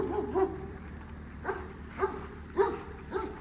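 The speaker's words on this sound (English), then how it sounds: "We do have a guard dog on premises here." Guard dog at a rural Florida home barking in five short, separate bursts, heard at moderate distance with quiet gaps between them.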